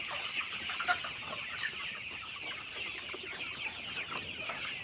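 Farmyard chickens, mostly red hens with a few black ones, cluck and chatter steadily at moderate distance, a busy overlapping flock sound with occasional sharper squawks and no talking.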